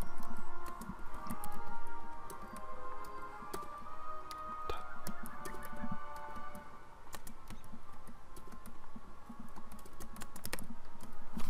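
Computer keyboard typing during a Wizard101 PvP match, with rapid, irregular key clicks and occasional mouse clicks over a low background hum of game audio, close and moderately loud.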